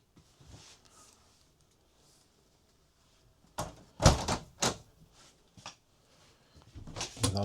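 Locker doors and drawers aboard an Explocat 52 catamaran, opening and closing in a burst of several sharp knocks and clatters at close range, set apart by quiet pauses.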